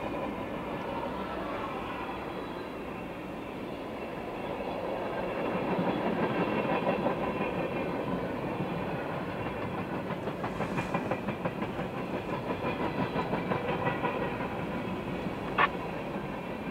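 A Norfolk Southern freight train rumbles past steadily at close range, with a faint rhythmic clatter of wheels over rail joints and a brief squeal near the end.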